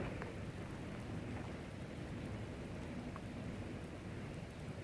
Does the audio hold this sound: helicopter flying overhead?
no